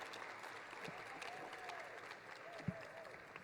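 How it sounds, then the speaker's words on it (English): Audience applause at a National Society of Collegiate Scholars induction ceremony at GCU, a steady wash of clapping from a crowd with a sharp louder clap near the end, heard at a moderate distance. "Let's give our new members a round of applause."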